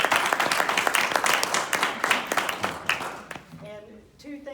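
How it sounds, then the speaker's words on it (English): Audience applause at an Army ceremony, dense clapping that fills most of the stretch before thinning out, with a voice beginning to speak near the end. "So please join me in a round of applause."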